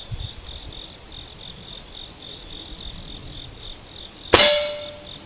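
A single sharp crack from a Beeman RS2 .22 caliber air rifle firing, a loud sudden shot with a ringing metallic tail over steady crickets chirping in the background.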